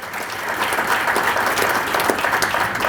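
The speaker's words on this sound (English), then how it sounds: "A massive round of applause for the university." At a student government welcome address, an audience gives a sustained, even round of applause that fills the hall without a break.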